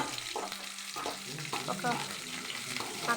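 Spices fry in a pan with a steady sizzle and crackle, broken by scraping stirs and light clinks throughout, close and moderately loud.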